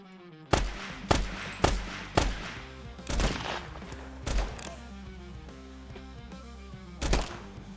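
Gunfire against bandits in the Western game Cowboy Life Simulator: a run of loud, sharp single gunshots cracking out roughly every half second, then a pause and one more shot near the end, over a low ambient game backdrop.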